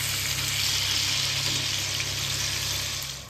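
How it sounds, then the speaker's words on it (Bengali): Chicken pieces for biryani frying in a pan give a steady broadband sizzle that stays fairly quiet and even throughout, then eases off slightly at the very end. "বিরিয়ানির জন্য চিকেনটা আগে ভেজে নিচ্ছি"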